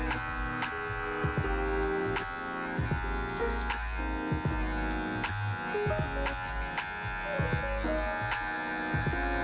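An electric hair clipper buzzes steadily and close while blending a skin fade clipper over comb, its motor hum carrying a tonal whine with small shifts as the blade moves through hair, no talking.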